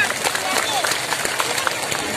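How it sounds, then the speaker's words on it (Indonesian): A community gathering applauds its organizing committee with loud, dense clapping from a crowd, a continuous rattling roar of hands with murmuring voices mixed in throughout. "Sekali lagi tepuk tangan untuk panitianya"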